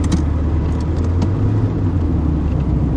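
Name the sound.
Honda Concerto car engine while driving in gear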